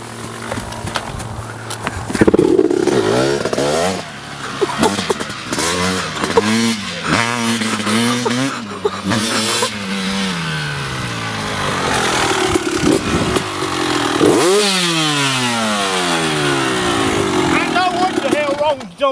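A motocross motorcycle is bump started and then revs in repeated rising and falling bursts, close and loud, with people talking over it throughout.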